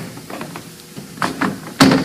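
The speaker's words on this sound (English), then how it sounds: "let me pull this door panel off" A car interior door panel is pulled off, giving a series of muffled plastic creaks and clicks that build to a sharper pop near the end, close by and with no talking.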